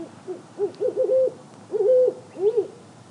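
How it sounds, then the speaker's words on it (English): An owl hoots outdoors at night, a series of clear mid-pitched wavering hoots in short bursts, fairly close and loud against a quiet background with no voices. "Ooh, that owl's certainly hooting."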